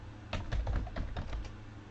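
Fingers tapping a computer keyboard in a short, close burst of quick keystrokes over a steady low background hum.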